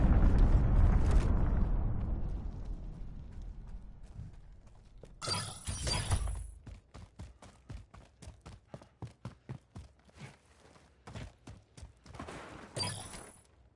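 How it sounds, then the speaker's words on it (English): Cruise missile strike in Call of Duty: Modern Warfare, a deep rumbling blast that decays slowly, followed by a sharp crackling explosion and a long run of rapid, evenly spaced popping detonations, with another sharp burst near the end. "Allied cruise missile away."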